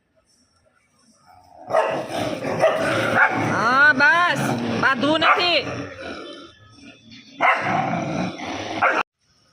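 Several street dogs gathered at evening feeding time bark and grunt while waiting for food, loud and close, mixed with people talking over them.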